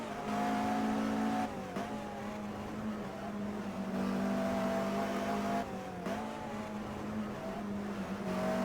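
Race cars in an ITCL race at the Nogaro circuit droning steadily at high revs, engine pitch dipping briefly at gear shifts twice, heard from onboard at moderate level with no talk.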